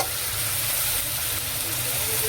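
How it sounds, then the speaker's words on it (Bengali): Ground spices such as turmeric, coriander, cumin and chilli fry in a pan for kofta, giving a steady close sizzle that runs unbroken and alone. "মশলাটাকে ভালো করে ভেজে নেব।"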